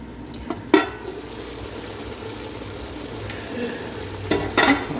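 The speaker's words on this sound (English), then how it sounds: "let it cook until the sausage is browned" Crumbled sausage browning in a pot over medium heat for a cheese tortellini soup, a steady close sizzle with brief clinks and stirring scrapes near the start and again toward the end.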